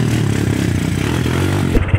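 A motorcycle engine running right after a new battery was fitted, a steady close mid-pitched rumble with a few small revs near the end.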